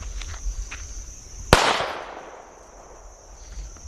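A Captain Jazz firecracker set against a padlock goes off in one sharp, loud bang that decays into a hissing rumble, while a steady high insect-like whine runs under the quiet background before and after.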